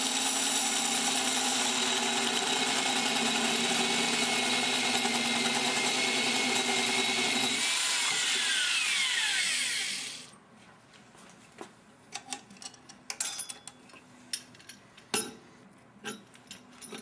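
A tube notcher cuts a notch into curved roll cage grab bar tubing. A loud, steady grinding whir runs for about ten seconds and then winds down, followed by scattered quieter clanks and taps.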